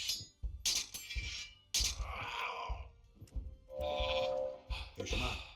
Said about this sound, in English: They can start on the sheep.